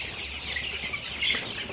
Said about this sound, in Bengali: প্রথমত আগে আমার খামারের মুরগিগুলো দেখাই।